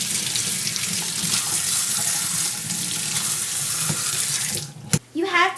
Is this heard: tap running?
yes